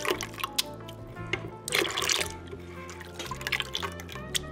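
Water poured into teff injera batter, with bright dripping and splashing that comes in uneven bursts over a low background hum.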